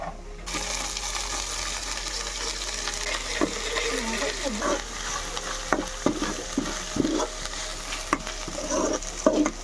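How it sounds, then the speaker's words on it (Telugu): Ginger paste frying with fried onions for a village-style country chicken curry, giving a constant sizzle under repeated sharp scrapes and clinks of a spoon against the pan that grow more frequent toward the end. "ఇప్పుడైతే అల్లం పేస్ట్ అయితే వేస్తున్నాను."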